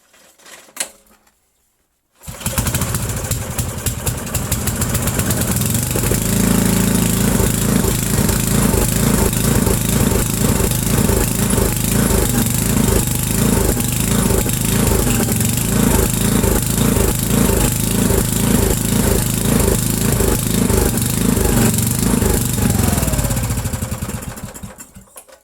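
An old 8 hp Briggs and Stratton engine fires up after a brief pause and runs loud and steady at wide-open throttle, a rapid, even chugging that continues close by for over twenty seconds before fading.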